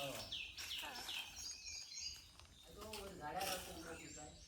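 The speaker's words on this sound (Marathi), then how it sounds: "सगळी किलबिलाट आधीच असतं." Birds twitter and chirp around a rural village, a few quick, bright calls repeating in short bursts. Faint human voices and small movement noises sit beneath them in a quiet outdoor setting.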